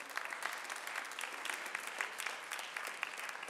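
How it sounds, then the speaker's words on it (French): A crowd at a slam poetry contest applauds a poet, a sustained, even wash of many hands clapping, moderately distant and fairly soft, with no speech over it. "On applaudit le poète."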